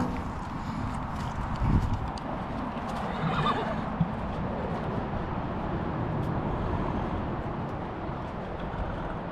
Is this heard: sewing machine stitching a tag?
no